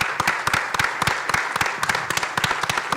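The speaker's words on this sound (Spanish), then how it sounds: "Un aplauso para mi amigo José." An audience at a civil engineering federation event in Mexico claps in quick, even rhythm, a short burst of close hand claps over a faint room hiss.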